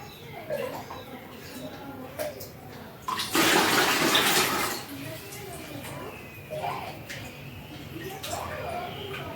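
A mug scoops and pours water during an aquarium water change, with a louder gush of pouring midway and soft splashes and trickles around it. A voice can be heard faintly in the background.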